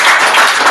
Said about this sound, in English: Everyone, just give a round of applause for our panel.